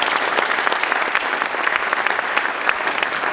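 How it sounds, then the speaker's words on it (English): Audience applause after a salute to Governor Rick Snyder, a dense, steady roar of many hands clapping that holds evenly throughout with no voices on top. "Please give him a round of applause."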